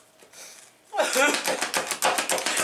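A kitchen knife rapidly chops sweet onions of the Vidalia type on a cutting board, giving a quick run of sharp, evenly spaced close-up knocks after a brief quiet start, with a voice talking around it.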